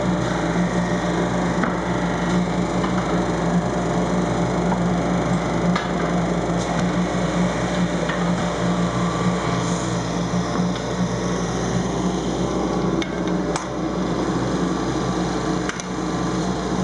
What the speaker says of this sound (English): we're going to thickness sand it down to our target thickness